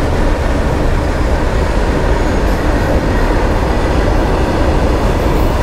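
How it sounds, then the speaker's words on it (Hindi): A train passes a level crossing at high speed, a loud, dense, continuous rumble and rattle of wheels and carriages that holds steady throughout, heard without talk. "चलिए तीसरा फाटक पे मिल गया हम लोग को ट्रेन"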